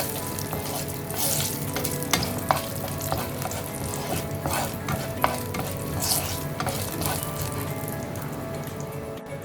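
Chilies sizzle steadily in hot oil for a tempering while a utensil scrapes and clicks against the pan in irregular stirring strokes, close up.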